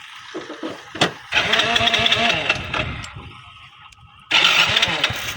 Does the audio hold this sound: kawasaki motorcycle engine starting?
yes